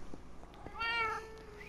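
A cat gives a single clear meow partway through, fairly close but soft, set against faint background noise and a few small knocks.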